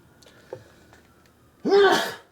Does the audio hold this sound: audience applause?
no